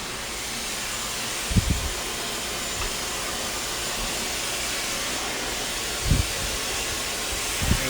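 A hair dryer on the cool shot setting blows a steady, loud, even hiss throughout a hair blowout, with a few soft low thumps from handling the brush and dryer, and no talking.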